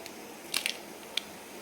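Okra pieces sizzling as they drop into hot oil over high flame while being fried into a crispy snack, giving a few faint, sharp crackles and pops over a quiet background.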